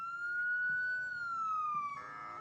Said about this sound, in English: We're not going to talk over the ambulance, are we?